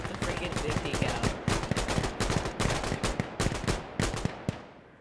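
Rapid bursts of .50 cal machine gun fire in the game Insurgency: Sandstorm, loud and close, coming in rhythmic volleys with short gaps between them, with voices talking underneath.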